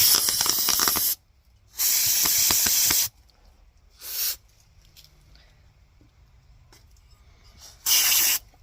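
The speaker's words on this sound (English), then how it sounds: "We're going to clean this up with some brake clean." Brake cleaner sprayed from an aerosol can onto an engine part, heard as three long, loud, close hissing bursts followed by a shorter puff and one final burst, with quiet gaps between them.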